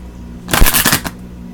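Tarot outcome cards shuffled in one quick riffling burst, close and crisp, lasting about half a second in a quiet room.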